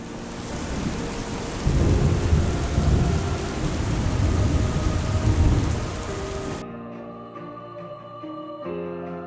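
Heavy, steady rain pours with low rumbling thunder, then cuts off abruptly into soft music.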